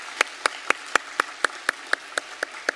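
A church congregation claps in unison to welcome three visiting families, about a dozen sharp, evenly spaced claps in a brisk steady beat over a quiet room.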